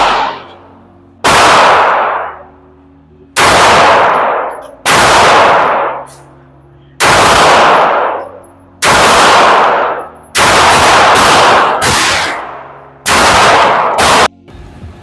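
Canik TP9 Elite SC 9mm pistol firing nine loud, sharp gunshots at a steady, deliberate pace, each crack followed by a short ringing decay, with no talking between the shots.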